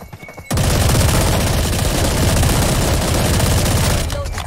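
Sustained automatic gunfire in Valorant, likely from an Odin heavy machine gun, bursting in loud and close after a quiet moment and roaring steadily for about three and a half seconds.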